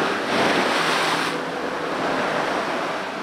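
Ocean waves wash onto the shore beside a private beach house resort in Bali. The surf makes a steady, loud, continuous roar with wind noise over it and no voices.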